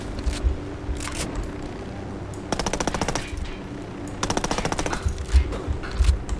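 Automatic weapon fire in the tactical shooter Ghost Recon Wildlands, with two long, loud rapid bursts of machine-gun shots separated by quieter gaps holding scattered single shots and thumps.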